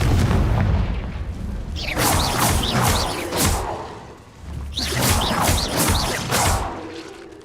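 In Hogwarts Legacy, the Confringo fire spell bursts in loud, booming explosions with whooshing flame, coming in two heavy waves separated by a brief lull.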